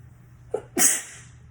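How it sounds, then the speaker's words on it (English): A single sharp sneeze, close and loud: a short intake breath followed by an explosive burst, then quiet. "Hold on, I got to sneeze."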